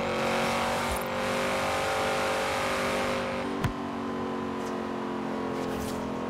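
Car engine in Forza Horizon 3 holds a steady high revving drone with tire noise underneath, and a sharp thump partway through before the engine carries on, continuous and close.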